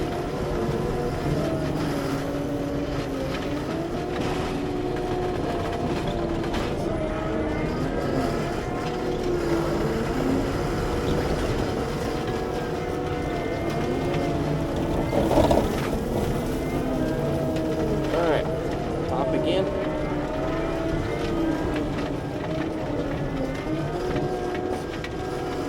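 Forestry mulcher running continuously and grinding stumps, a loud, dense engine drone with shifting tonal whines as the drum spools up and bogs under load, with a brief surge near the middle.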